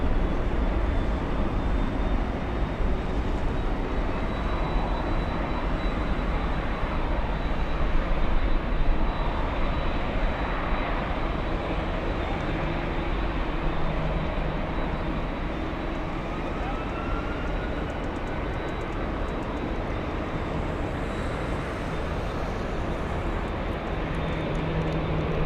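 A Boeing 757 jet takes off from LAX with a sustained, powerful engine roar and a thin high whine, steady and loud across the whole stretch with no talking.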